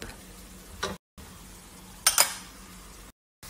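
Two cloves of crushed garlic fry in a hot pan, a soft sizzle broken by a couple of quick stirring scrapes, with brief silent gaps in between.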